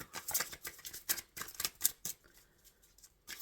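Tarot cards riffle and snap in quick bursts of shuffling, close and crisp, followed by a brief quieter pause before another flurry.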